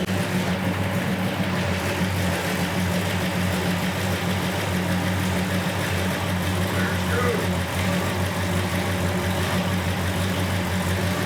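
A Plymouth Road Runner converted to a winged Superbird idles with a steady, throaty low rumble throughout, close and loud, with faint speech mixed in.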